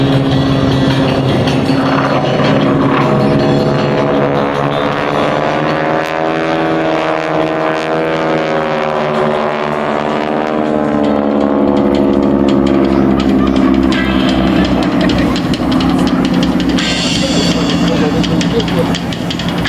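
SNJ warbird propeller aircraft performing an aileron roll at the 2025 MCAS Beaufort airshow, a loud sustained engine drone with shifting pitch as it passes, under a commentator's voice.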